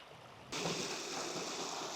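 Rushing water from the North Fork of Little Beaver Creek and its waterfalls in Sheepskin Hollow State Nature Preserve, Ohio, cuts in suddenly and then flows on as a steady, full hiss, close and fairly loud.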